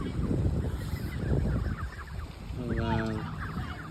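Geese being fed at dinner time give a few honking, gobbling calls, mostly in the second half, over steady outdoor background noise and rustling.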